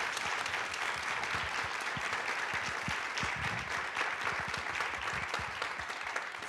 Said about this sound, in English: giving another round of applause to our panelists and for the film Will